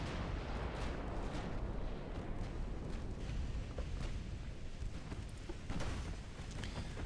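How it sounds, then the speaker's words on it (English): Naval high-explosive shell fire in the warship game Ultimate Admiral: Dreadnoughts, a steady thunder of distant gun reports and booming impacts blending into a constant heavy rumble, with no voices. "Maintain HE fire"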